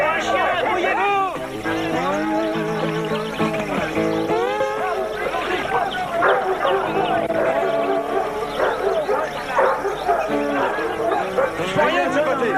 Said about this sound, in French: Les chiens ont trouvé quelque chose. Ils vont tous de ce côté.